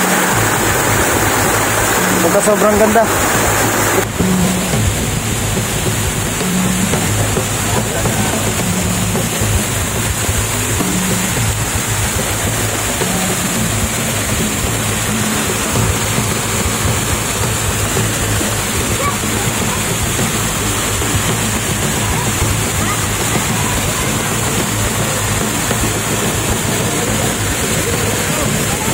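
Waterfall at Holjogon, Mobo, Masbate, a steady broadband roar of falling water close by, running continuously with a person talking briefly over it near the start.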